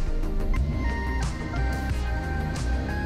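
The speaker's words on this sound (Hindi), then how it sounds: "ये आप साउंड सुन पा रहे हैं, ये मेरी गाड़ी स्टार्ट हो गई है" A car engine idles steadily right after being started, a low continuous rumble close by with a few clear tonal chimes or beeps sounding over it.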